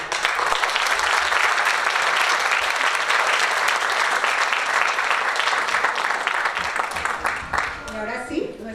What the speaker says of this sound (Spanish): Un aplauso para Colombia.